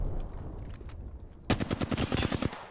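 Rapid automatic gunfire from Apex Legends erupts midway after a quieter stretch, a dense burst of sharp, close shots in quick succession with no talking over it.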